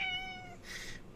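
A cat meows once, drawn out and fairly close, with a short breathy rise at its end; the call stands alone over faint room noise, and nobody talks.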